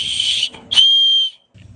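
A small whistle from a survival gear kit is blown twice in quick succession, shrill and close, the second blast held longer before stopping, with faint background noise afterward.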